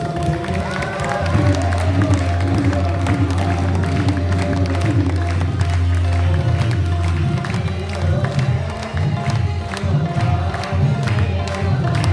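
A crowd at a devotional gathering claps and cheers steadily and loudly throughout, with music and voices mixed underneath.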